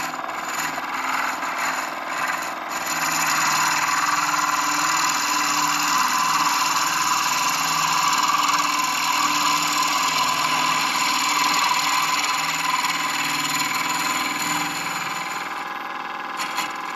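A pen blank spins on a wood lathe, a steady broadband whir and rasp of the cutting tool against the wood that runs continuously after a quieter start and fades slightly at the end.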